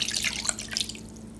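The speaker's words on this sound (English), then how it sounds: "Then I'm going to add 3/4 cup of water." Water pours into pumpkin donut batter in a bowl, a close, brief splashing trickle that fades out within a second or so.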